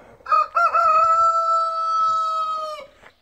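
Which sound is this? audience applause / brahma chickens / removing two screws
brahma chickens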